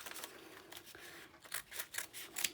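Scissors snip through half of a Tyvek envelope at close range, a series of crisp, papery cuts coming in quick bursts that grow louder toward the end.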